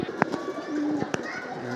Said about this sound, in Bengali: কবুতর সব নামছে